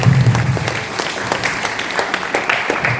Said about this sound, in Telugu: బిగ్ క్లాప్ అండి మళ్ళొక్కసారి గట్టిగా